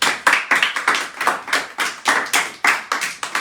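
A church congregation claps in a fast, steady rhythm, with sharp, even hand claps close by and no voices clearly audible.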